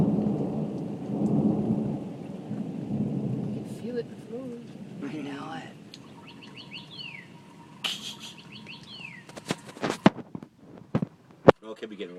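A severe July thunderstorm rolls in with deep, rumbling thunder and steady rain, followed by chirping birds and a few sharp nearby knocks.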